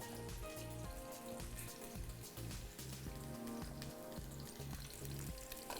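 Green chilli, ginger and garlic sauté in a hot pan with a steady, close sizzle, partly under background music throughout.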